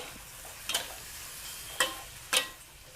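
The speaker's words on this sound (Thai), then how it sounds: "ใส่กุ้งค่ะ ลงไปเลย ผัดกุ้งค่ะ สักเล็กน้อย" Shrimp being stir-fried in sauce in a pan for glass noodle dish, a faint sizzle with three distinct scraping strokes of a spatula spaced about a second apart.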